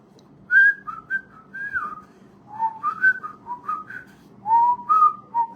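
Someone whistles a casual, wandering tune alone while riding a bicycle, a string of short and held notes with brief breaks, close and clear over faint background noise.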